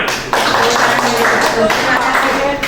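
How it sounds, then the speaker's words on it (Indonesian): A group of people clap their hands in a short, steady burst of applause at a teacher training session, with talk audible alongside the claps. "Tepuk tangan."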